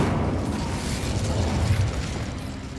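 A fire spell cast in the Hogwarts Legacy video game gives a dense, rumbling burst of flame that roars steadily for nearly three seconds with a low booming body and crackling texture.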